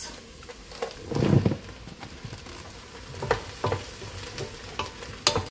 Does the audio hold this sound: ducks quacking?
no